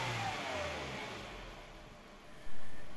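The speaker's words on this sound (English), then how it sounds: "Let's snap the throttle once and check." A car engine runs close by with a mid-pitched drone that fades slightly, then the throttle is snapped and the sound jumps abruptly louder near the end.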